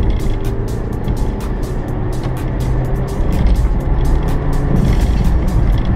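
A Daewoo Matiz with an automatic gearbox on a test drive, its engine and road noise droning steadily and close throughout, swelling slightly toward the end.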